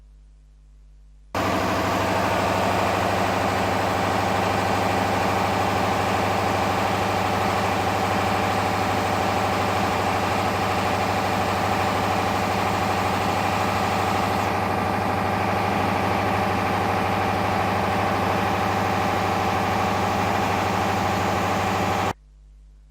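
A lab test engine runs steadily for about twenty seconds in an air-fuel ratio experiment, a constant loud droning hum with a strong low-pitched tone, starting and stopping abruptly, with no talk over it.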